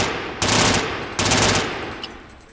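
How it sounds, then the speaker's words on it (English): Two short bursts of rapid automatic gunfire from a gun in the shooter game BRINK, loud and close, each followed by a brief decaying tail. "let me show off some rapid fire"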